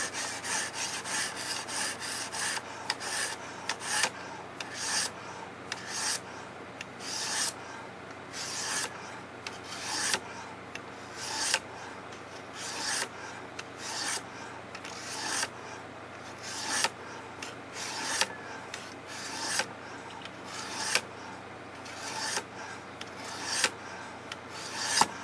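A Ruixin Pro sharpener stone rubs along a knife blade to remove scratches, in steady repeated strokes about once a second. The rasping is close and clear with no talk.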